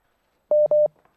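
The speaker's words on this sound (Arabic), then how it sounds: "أنا سامعين صوت الاتصال" Telephone dialing tones on a live call-in broadcast: two short, loud, steady electronic beeps in quick succession, with a faint tail afterward and no speech.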